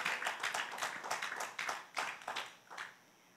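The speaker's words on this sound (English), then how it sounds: "Let's give the Lord a hand clap of praise, because God is the one that's almighty." A congregation claps hands in praise during a church service, a burst of loud, uneven claps from many people that rises and falls for about three seconds before fading out.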